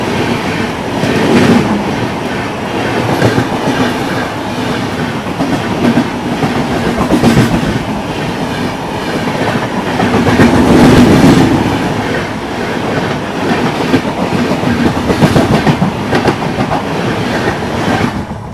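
Gorakhpur–Bathinda Gorakhdham Superfast Express crossing near Kamalpur, a steady loud rumble of rolling train with rhythmic clickety-clack of wheels over rail joints throughout, swelling briefly midway, with no talk.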